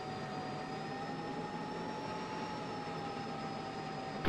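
Jet aircraft engine in the Falcon BMS flight simulator game, a steady faint whining roar with a high tone slowly rising and falling, heard alone without speech.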